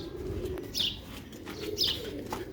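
Pet pigeons of an old Prince breed kept as a hobby, cooing softly in a low murmur with a couple of brief higher chirps, fairly close and steady throughout, with no talking.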